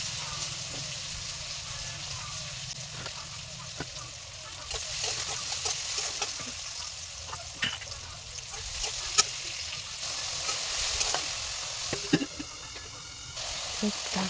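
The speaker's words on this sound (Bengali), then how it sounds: "দেখো পেঁয়াজটা দিয়ে দিলাম, দিয়ে হালকা করে ভেজে নিয়ে একটু জল দিয়ে দেবো" Onions frying in a pan for a home-style egg curry, a steady close hiss and crackle running throughout, with scattered pops and a brief spitting burst near the end.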